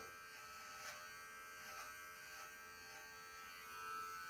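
An electric hair clipper set to zero shaves a beard with a steady, quiet mechanical buzz and faint shifts in tone as it moves across the stubble.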